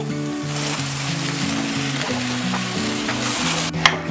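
Fried cauliflower pieces for gobi manchurian sizzle steadily in a hot pan of sauce, a continuous close frying hiss with a brief clatter near the end.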